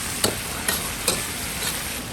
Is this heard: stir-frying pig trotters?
yes